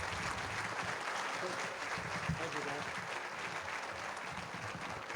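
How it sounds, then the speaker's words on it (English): An awards dinner audience gives a sustained round of applause for runners-up and winners, steady dense clapping lasting several seconds with a few voices mixed in. "let's give our runners-up and winners one more big round of applause"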